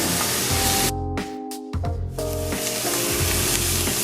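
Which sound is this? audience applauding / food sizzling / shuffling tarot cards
food sizzling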